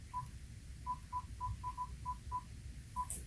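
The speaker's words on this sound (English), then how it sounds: "You need to call Rome's phone?" A telephone keypad sounds a quick run of short, evenly pitched dialing tones, about nine beeps at a steady pace, in a quiet room during a police interrogation.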